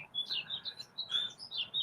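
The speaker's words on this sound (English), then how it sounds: "The birds are warning you about Friday the 13th." Small birds chirp in quick, high, bright tweets, a busy run of short calls repeated over a quiet background, fairly close and clear with no talking.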